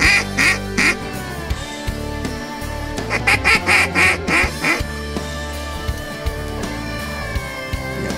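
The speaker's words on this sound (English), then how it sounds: "We got two mottled ducks coming in off the left." Mottled ducks call in bursts of raspy quacks from a Florida Everglades marsh during an afternoon hunt, several repeated calls rising over a steady background with some overlapping quacking.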